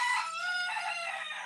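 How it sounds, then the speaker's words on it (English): A rooster crows in one long, drawn-out call that fills the moment, moderately faint and heard on its own without any talking. "And the rooster agrees."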